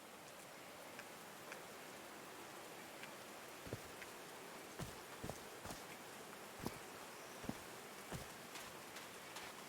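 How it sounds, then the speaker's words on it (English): Rain falling in the video game Call of the Sea, a steady hiss of rainfall with scattered heavier drops tapping and splashing nearby at irregular intervals. "These drops of rain are so refreshing."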